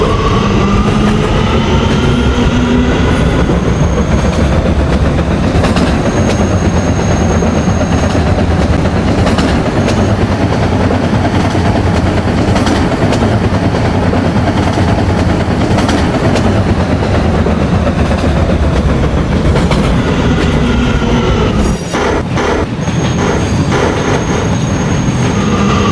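A subway R train in a Roblox game runs along the track with steady rumbling, clickety-clack wheel beats and faint squeals, loud and continuous throughout with no voices.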